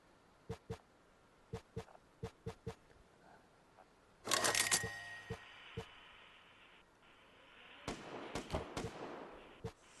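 Sharp, isolated gunshot cracks in the video game Vigor, in a rapid irregular series, with a louder burst midway and another cluster near the end, heard without talking.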